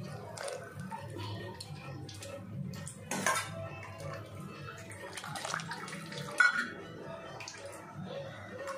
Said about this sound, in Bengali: দুধ আছে, দুধ দিয়ে দিলাম